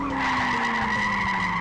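Tires skid and squeal in a steady, loud screech as a car slides during driving in a video game, with engine noise underneath and no speech.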